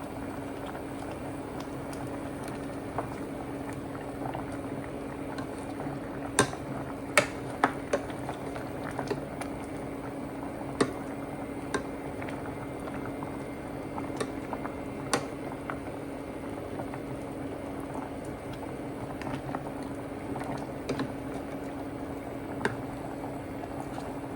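A pot of sinigang with tulingan fish bubbles at a low simmer throughout, a faint steady gurgle broken by occasional small pops and clinks.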